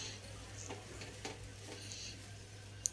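Fried rice with sliced green chillies and scrambled egg is stirred in a pan, producing a soft, steady sizzle with faint scraping strokes and one small sharp clink near the end.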